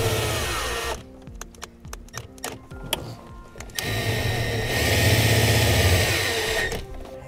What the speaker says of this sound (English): we'll take one of our self-tapping screws that comes in our kit